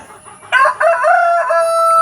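A chicken gives a few loud, close clucking calls after a quiet start on a provincial farm, with a steady faint tone running underneath.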